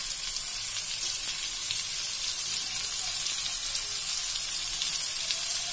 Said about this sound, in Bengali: তেলটার মধ্যে দেখো আদা কুচি দিচ্ছি